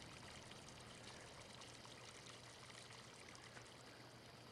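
A water fountain in the Farming Simulator 15 video game gives a soft, continuous splashing and trickling, faint and steady throughout.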